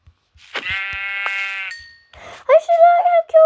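A video-game sheep gives a loud, quavering bleat up close, followed by a brief pause and then another wavering, higher cry.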